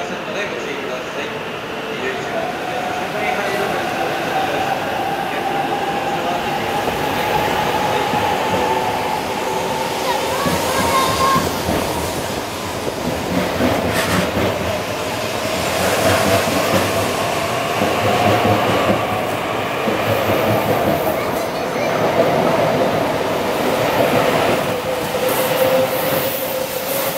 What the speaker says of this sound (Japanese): 到着の電車は折り返しは車庫に入る回送電車です